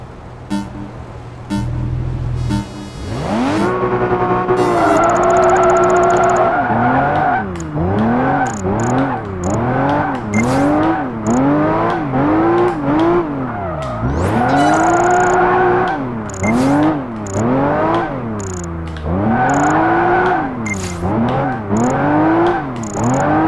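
A car drifts through a Project Gotham Racing 4 race, its tires squealing in long, loud, repeated sweeping arcs, one rising and falling whine after another over a steady engine roar.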